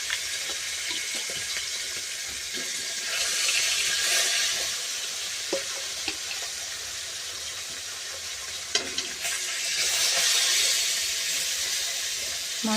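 Hilsa fish rubbed with salt and turmeric fry in hot oil, giving a steady close sizzle that swells and eases with occasional stirring clinks, with no one speaking.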